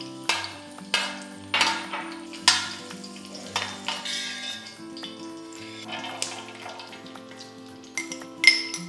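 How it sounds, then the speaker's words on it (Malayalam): Raisins frying in ghee in a pan while making pineapple payasam: a faint, soft sizzle punctuated by several sharp clinks and scrapes of stirring against the pan. "ഇനി ആദ്യം കുറച്ച് മുന്തിരി ഇടുകയാണ്."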